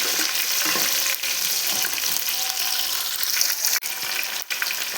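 Curry leaves and shallots fry in hot oil for a fish curry, giving a steady, close sizzle with occasional stirring clinks and no voices.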